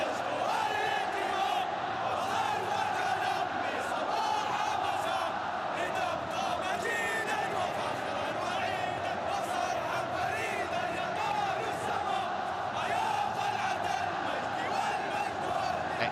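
Large football stadium crowd of around 50,000 at an Asian Champions League quarter-final night match, a continuous roar of cheering and chanting with rhythmic surges, a commentator's voice faintly present under it.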